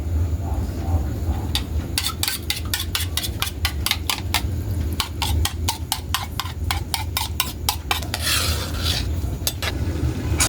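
Repeated scraping and clinking of a utensil stirring egg into a pot of simmering tilapia stew, in uneven bursts over a steady low bubbling simmer.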